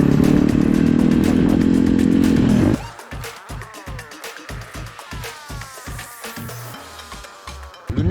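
A motocross motorcycle rides through a residential neighbourhood: a loud close engine roar cuts off after a few seconds, then rhythmic clattering, ticking engine and mechanical knocks follow at lower level, with a brief revving burst at the end.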